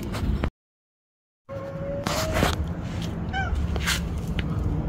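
A cat gives a short rising meow partway through, close and fairly clear, among garage background noise after a brief dropout at the start.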